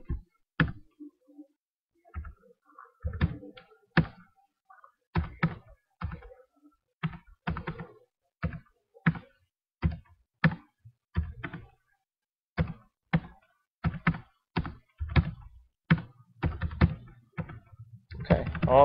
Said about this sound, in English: And now just typing the data.